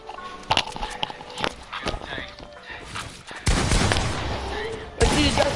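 Gunfire from a video game event crackles in sharp separate shots, followed by louder sustained blasts of dense noise, with a voice talking over parts of it.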